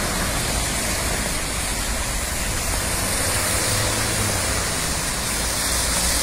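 A vehicle speeds through standing water on a flooded Via Marengo in Alessandria, throwing heavy spray: a loud, continuous rushing hiss like a waterfall, close and unbroken for several seconds, with a faint engine rumble underneath.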